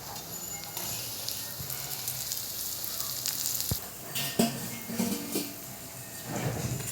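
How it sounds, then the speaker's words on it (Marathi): Onion and chillies frying in a pan, a continuous quiet sizzle broken by a few sharp clinks and scrapes of utensils and pan handling, no talking. "आणि आता राहिलेला एक कांदा तळायचा आणि इकडं मिरच्या तळायच्यात"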